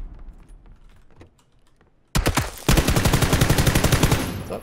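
Gunfire from the video game PUBG: after a quiet stretch of faint clicks, a loud rapid automatic burst erupts and keeps going as a fast, steady rattle of shots to the end.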